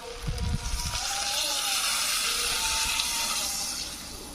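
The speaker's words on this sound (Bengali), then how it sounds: "এবার এখানে আমি জল দেবো এই বাটির এক বাটি জল" A bowl of water is poured into a hot pan of cooking vegetables for a Bengali pui shak dish. A quick splash is followed by a sustained hissing steam and bubbling, close and fairly loud.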